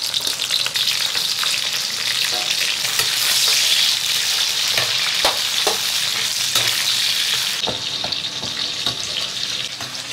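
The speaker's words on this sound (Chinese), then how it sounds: "锅中加油，葱姜蒜爆香，再来点自制的火锅底料。" Scallion, ginger and garlic sizzle loudly in hot oil in a wok, a dense continuous crackle with scattered sharp pops and stirring scrapes, close up and steady, easing slightly near the end.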